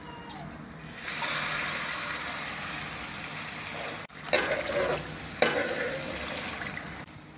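Ground vegetables hit hot oil in a kadhai and a loud sizzle rises at once, holding steady with brief breaks and scraping stirs partway through, close up and free of speech.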